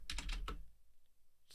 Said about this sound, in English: It's infuriating because I hate this keyboard and I'm sorry that it's so loud.